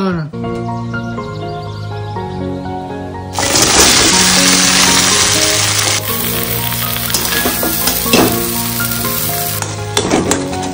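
Bhetki fish curry cooking in a pan: a loud, steady sizzle bursts in around three seconds and keeps frying beneath music, with occasional stirring clinks.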